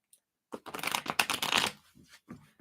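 Tarot cards shuffled by hand in a quiet room, a dense run of riffling, slapping bursts for about a second, then a few softer shuffles trailing off.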